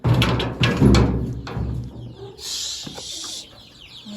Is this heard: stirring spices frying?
no